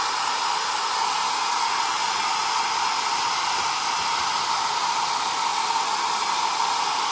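A hair dryer blows on a thrifted chicken figure coated in fine crackle paint, a loud, steady whooshing roar that holds without a break, with no one talking.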